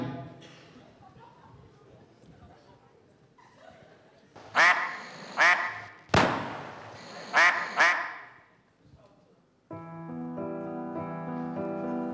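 Four loud, raspy duck quacks in two pairs, close by, with quieter noise and a voice before them; a steady musical tone plays afterward.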